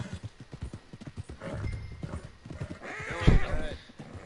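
Horse hooves clip-clop at a walking pace in Red Dead Redemption 2, with a close whinny near the end and a voice talking over the steps.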